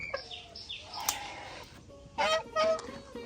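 Ducks on a village farm give a few loud, nasal honking calls near the mic, a quieter call early on and two louder bursts toward the end, with faint background sounds between.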